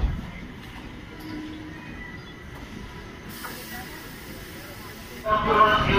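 Steady hiss from a train standing at Valsad station during a five-minute halt on Western Railway, with low rumbling platform noise throughout and a louder burst of hissing near the end.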